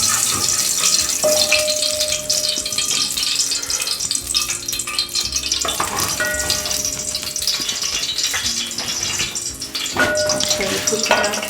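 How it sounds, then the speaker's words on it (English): Cooking oil is poured into an empty cooking pot and immediately crackles and sizzles loudly, a dense continuous frying hiss with bubbling that persists throughout, close up, while a voice speaks over it. "We are going to pour some oil. Make sure you put enough oil."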